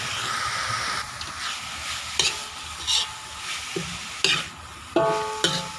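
Eel stir-fried in a hot pan for a northern Thai Phayao-style eel curry, with a steady close sizzle and hiss broken by several louder scraping stirs, no talking.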